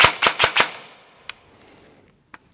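An E&C MK18 Gen2 airsoft gun fires a quick burst of four loud, sharp shots close up, followed by two isolated, fainter single shots.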